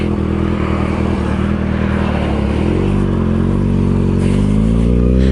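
Kawasaki ZX6R motorcycle pulling away, a loud steady engine drone that rises in pitch as it accelerates, heard up close over constant wind rush.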